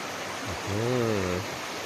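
A waterfall near a farm at Nam Nao rushes steadily over rocks, a loud, even wash of water that fills the whole moment, with a brief voice sounding over it.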